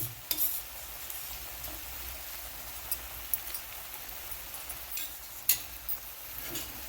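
Tomato sauce is stirred into spices frying in oil for lemon chicken, with a soft steady sizzle under occasional scraping clicks of the spoon against the pan.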